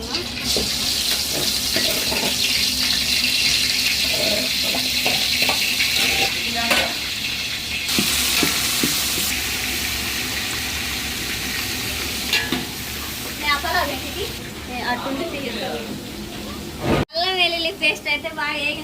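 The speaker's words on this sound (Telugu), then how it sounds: "పచ్చి వాసన పోయే వరకు తిప్పేసుకోవాలా" A tomato, green chili and onion paste sizzles steadily in a pan while being stirred, a loud continuous frying hiss with scraping strokes, people talking over it and a brief splash of running water near the end.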